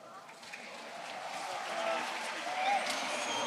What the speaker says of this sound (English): Crowd getting right into it.